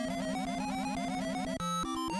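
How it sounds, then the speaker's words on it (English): Chiptune music from the Rocky and Bullwinkle NES video game plays under the Goofgas effect, each note randomly pitched so the melody jumps erratically in bright, steady electronic tones. "the Goofgas reverses your controls and makes the music sound like this."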